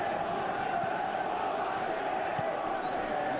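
A stadium crowd in a football video game gives off a steady, even roar of cheering, continuous and somewhat distant, with no clear peaks.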